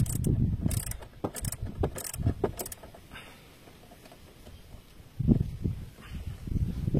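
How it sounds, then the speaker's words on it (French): A ratchet with a 10 mm socket unscrews a bolt on a Renault Clio 4 or Mégane 4 1.5 dCi clutch, making close, quiet bursts of ratcheting clicks with a pause in the middle. "Et là je vais venir défaire. Voilà, on dévisse."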